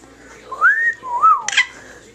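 A pet bird whistles two clear rising-and-falling notes, close and loud, followed by a short sharp chirp, with quiet pauses between.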